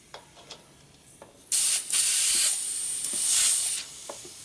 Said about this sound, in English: Hear a bunch of leaks until all the air between the tube and tire blows out